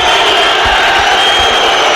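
Football crowd at a Cardiff versus Swansea City derby, a broad sustained roar of jeering and booing from the stands filling the whole stretch without pause, with no clear voice standing out.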